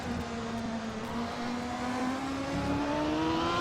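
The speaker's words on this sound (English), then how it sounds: "We can hear here with Ray Rideau and Patrick racing with the Ilmo Chevrolet how careful he is." Ilmor Chevrolet engine in a Patrick Racing car during a 1988 CART race, heard from onboard: a loud, sustained engine drone whose pitch climbs steadily as power is applied, with no talking.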